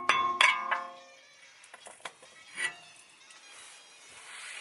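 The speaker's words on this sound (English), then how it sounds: "Just grab a hammer, give it a light tap" Several light hammer taps knock a rotor loose on a BMW Z4 E85 during a brake upgrade to E46 325 mm rotors, giving sharp metallic clinks that ring briefly, with a few fainter knocks following in a quiet garage.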